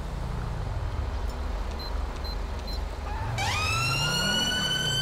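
A police car siren in the video game GTA with the LSPDFR mod, starting mid-clip as a loud rising wail over a steady engine and road rumble, with a few faint beeps before it and no talk.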